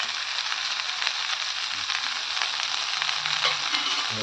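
A spice paste of coriander powder, chili powder and ginger-garlic paste fried with yam in a pan: a loud, dense, unbroken sizzle right up close, with soft stirring scrapes beneath it and no speech.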